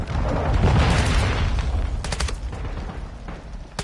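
Loud gunfire in Modern Warfare 2: a dense burst of rapid shots and booms up front, then sparser, sharper single cracks toward the end, with no talk.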